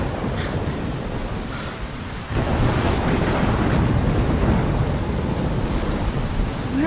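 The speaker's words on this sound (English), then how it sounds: "I'm trapped in a storm?" A video game storm in Life Is Strange brings steady heavy rain and wind. Deep thunder rumbles through, and the downpour surges louder partway through and stays dense and close.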